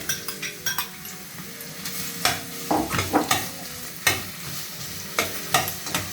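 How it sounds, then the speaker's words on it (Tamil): Onions sizzling and crackling in hot oil, with intermittent scraping and stirring of a utensil against the pan. "வெங்காயம் கொஞ்சம் தாளிப்படணும்."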